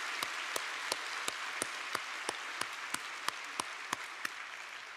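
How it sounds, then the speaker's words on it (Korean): Rhythmic, even clapping in a church service, sharp regular claps roughly three per second, fairly close, with no voices over it. "우리 교회 이제 3040 세대들이 지금 일어나고 있는데 격려의 박수 한번 치겠습니다."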